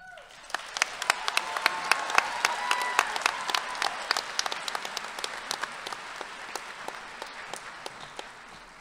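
Audience applause at a high school creative arts graduation ceremony in 2022, a steady crowd of clapping hands with sharp individual claps standing out, sustained for several seconds at moderate volume.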